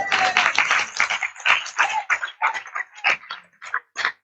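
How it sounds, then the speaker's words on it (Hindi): A church congregation at a healing and deliverance conference clapping hands in thanksgiving: a close, lively run of sharp claps, loose at first, then settling into separate, rhythmic bursts. "ताली बजाकर धन्यवाद करें।"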